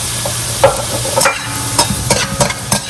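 Rice with green onions is stir-fried over high heat in a pan for jalapeño and sweet onion fried rice. A constant sizzle runs under repeated scraping and clanking strokes of a spatula, close and fairly loud, with no talking.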